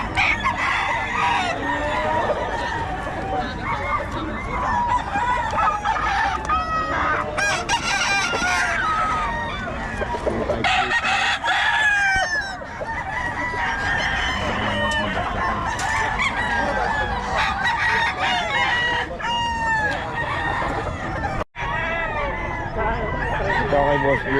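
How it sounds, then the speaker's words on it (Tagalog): Several roosters crow repeatedly, some near and some farther off, amid clucking and a busy outdoor background. "maganda ng mga manok ni Boss Batang."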